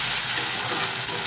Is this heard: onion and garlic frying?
yes